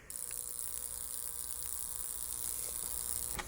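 Spark plug testing machine switched on, giving a steady close electrical hum with a high whine and faint crackle throughout.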